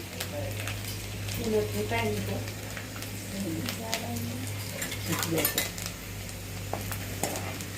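A utensil stirs garlic in a hot pan for egg biryani, with scraping, light clinks and a faint sizzle over a steady low hum, while a voice talks now and then.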